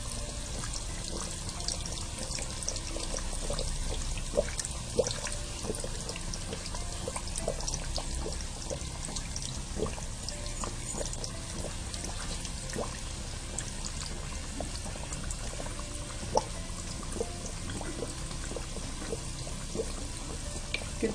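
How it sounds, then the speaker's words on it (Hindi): Hot oil is spooned over mixed vegetable kachori frying in a pan, a steady dense sizzle and bubbling with faint clinks of the spoon throughout, no talk. "इस तरह से चम्मच से कोशिश करें थोड़ा थोड़ा ऑयल आप कचौरी के ऊपर भी डाल सकें।"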